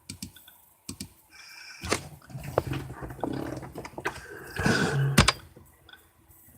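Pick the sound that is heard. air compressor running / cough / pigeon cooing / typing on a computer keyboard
typing on a computer keyboard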